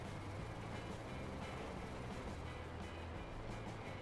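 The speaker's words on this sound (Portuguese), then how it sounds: "o trem tá passando ali?" A train passes by in GTA V, a continuous broad rumbling roar that holds at a steady, fairly loud level throughout with no voices.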